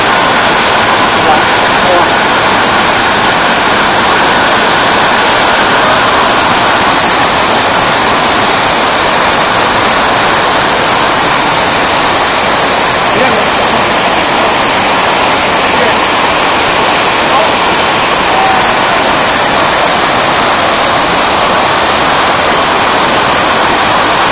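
Mimbalot Falls waterfall, a loud, constant rushing roar of falling water heard up close with no break.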